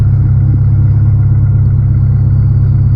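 A Honda Integra engine at cold idle with a steady low rumble and slight rhythmic clatter, loud and close, with no other sounds.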